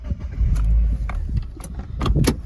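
A project car's engine is started, with keys jangling and clicks, then a low rumbling catch and idle close by, interrupted by short sharp knocks.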